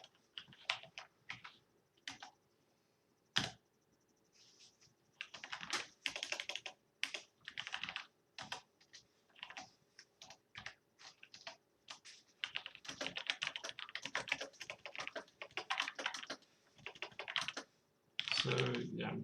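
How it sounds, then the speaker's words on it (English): Rapid bursts of typing on a computer keyboard, close and fairly quiet, with irregular clusters of key clicks separated by short pauses and a faint voice in the background. "I'm just basically typing stuff out of the book here."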